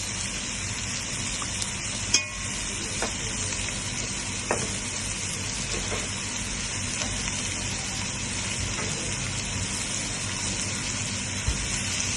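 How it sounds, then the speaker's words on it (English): Tomato paste fries in a pan with garlic for a cassoulet, giving a steady close sizzle through the whole stretch, broken by a few sharp spoon or utensil clinks against the pan. "we can roast the tomato paste for about 1 minute"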